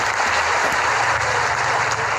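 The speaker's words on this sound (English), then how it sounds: "Now let's give ourselves a clap for that." Clapping applause in a classroom lesson, a dense continuous patter of many hands lasting a couple of seconds at fairly loud level, with no talk over it.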